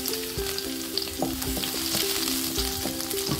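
Small onions fry in coconut oil in a pan for radish soup, giving a steady close sizzle with occasional stirring scrapes and clicks. No voices are heard.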